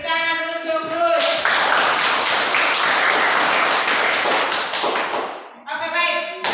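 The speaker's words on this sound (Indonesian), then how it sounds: "tepuk tangan untuk Ruth" Students applaud in a classroom, a dense burst of many hands clapping for several seconds that rises abruptly and fades out, with a teacher's voice speaking before and after.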